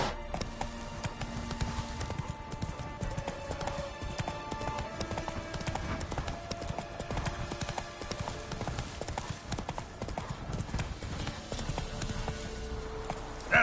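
Hooves of Roach, a horse in The Witcher 3, pound in a fast galloping rhythm, close and continuous over a layer of game music and ambience.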